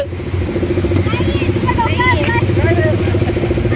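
A motorcycle engine with no silencer runs loud and rough up close with a steady rumbling drone, while people talk over it.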